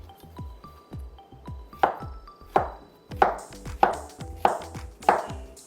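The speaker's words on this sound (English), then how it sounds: "you're just going to cut your bananas to whatever size you prefer" A knife chops bananas into large chunks on a cutting board, giving about ten sharp, close, evenly spaced thuds. Each strike rings briefly.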